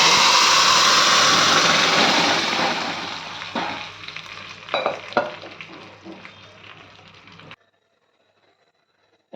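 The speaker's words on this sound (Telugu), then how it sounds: "ఇప్పుడు మనం ముందుగా మెదిపి పెట్టుకున్న దొండకాయ పప్పు ఇందులో వేసేద్దాం" A hot tempering sizzles loudly, then mashed ivy gourd dal is tipped in. The crackle breaks into a few sharp spits, fades and dies away into near silence.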